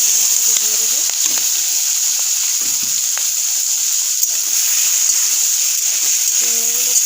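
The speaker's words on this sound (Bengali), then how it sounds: "চিংড়িগুলো ভেজে নিতে হবে" Prawns sizzle steadily in hot oil in a wok, a loud continuous frying hiss throughout with occasional faint stirring scrapes.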